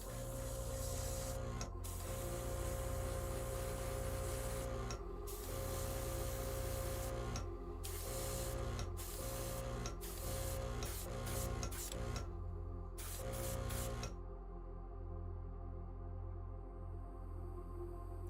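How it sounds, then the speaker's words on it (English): Airbrush spraying blue paint onto a miniature, a steady hissing spray in repeated bursts with short pauses, close and fairly quiet, no talk. "I just love the finish of an airbrush. It's so smooth."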